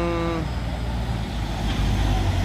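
Heavy road traffic on a soft, damaged road stretch in the Bicol region of the Philippines, with large trucks rumbling past in a continuous loud, low engine drone and roar, close by, with no talk.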